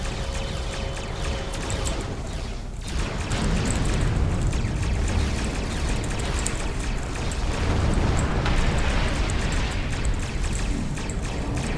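Starship weapons blasting at Klingon attack ships in Star Trek Online: a steady run of loud, dense booms and bursts with a brief lull near the third second before the barrage resumes.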